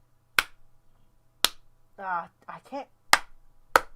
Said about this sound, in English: No, you gotta do loud claps.